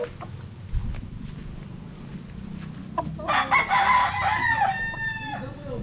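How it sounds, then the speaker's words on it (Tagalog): Young gamecock stags crow and cluck close by, a dense overlapping chorus of harsh crows and clucks swelling from about midway, over a low rumbling farmyard background. "Ito na yung mga stag natin na bagong harvest."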